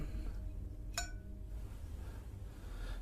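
A single bright metallic ting as a tilted lighter knocks while a box slides across a table, one short ring near the start that fades quickly over a faint, steady room hiss.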